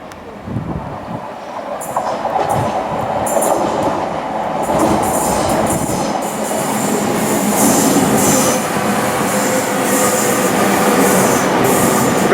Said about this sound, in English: Obviously it's working on diesel power here, because there's no wires yet. And there's a westbound service as well.